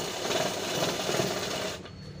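A sewing machine stitches a pant seam with a fast, even whirring rattle, close and steady for about two seconds before stopping.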